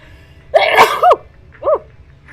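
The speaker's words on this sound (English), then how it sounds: "Bless you." Close and loud, one forceful sneeze erupts during a Zenless Zone Zero gaming stream, followed by a couple of softer breathy vocal sounds.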